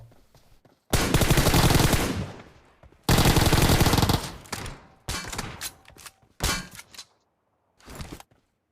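Gunfire in the PUBG battle royale game comes as long, loud automatic bursts with metallic clangs, then shorter volleys separated by brief silences.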